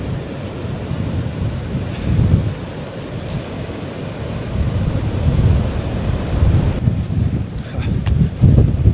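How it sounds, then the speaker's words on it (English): Strong gusty wind buffets the microphone outdoors beside a river on a winter walk, a loud, rumbling roar that swells and eases in waves for the whole stretch. "It's a very windy day today."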